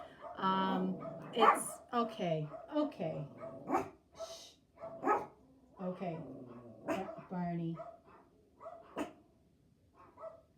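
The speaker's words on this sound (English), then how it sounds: "So, sorry about the dogs." Dogs bark and yip in short bursts close by while a person speaks soothingly over them, the barking scattered irregularly throughout.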